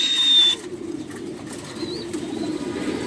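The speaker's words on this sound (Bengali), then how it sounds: "এদিকে আরও একটা রেস করা কবুতর রাখা আছে পেয়ার" Racing pigeons kept as pairs with their young in a loft give low, soft cooing close by, with a brief flutter of wings. A thin high whistle is heard at the start.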